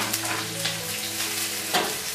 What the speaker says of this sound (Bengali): এবার এর মধ্যে ওই আদা রসুন যেটা রেখেছি থেতো করে সেটা দিয়ে দিলাম।